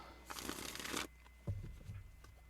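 A single quick riffle of playing cards being shuffled, a crisp burst lasting under a second, close and quiet, followed by a soft tap.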